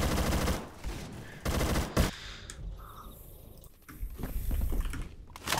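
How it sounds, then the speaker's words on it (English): Shotgun gunfire in a video game, loud blasts with mechanical pumping and clacking between them, several shots spread irregularly over a few seconds against a busy game soundscape. "Oh no, I hear that stupid ass shotgun, Henry."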